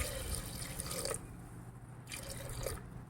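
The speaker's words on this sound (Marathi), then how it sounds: "आणि चार ते पाच चमचे आपण मसूरची डाळ घेतलेली आहे आणि याच्यात आपण एक तांब्या पाणी घालणार आहोत" Water poured from a small pot onto masoor dal: a close, gurgling splash that pauses briefly midway and then resumes, quiet overall.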